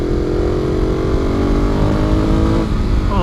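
2014 Ducati Monster 821 motorcycle engine accelerating, a loud close continuous snarling drone with rising pitch, heard from the rider's position, no speech.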